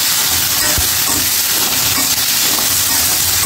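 Steady loud sizzling and hissing of papaya and ginger paste frying in a hot pan for shukto, a continuous close crackle with no break.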